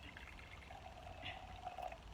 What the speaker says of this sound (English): Here's the hot water going in.